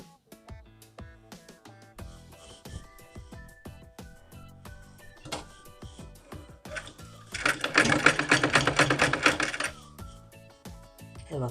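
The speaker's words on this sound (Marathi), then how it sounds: "हे बघा असेच मधोमध टीप मारायची." A sewing machine stitches a frill down the middle onto another frill of a round old-style baby bonnet, its needle chattering in a dense, loud burst midway through amid quieter handling clicks.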